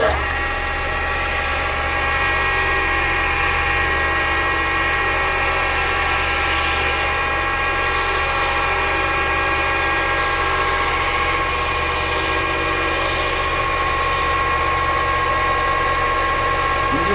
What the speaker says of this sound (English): I have this 1-inch belt sander that works really nice putting around the edges on these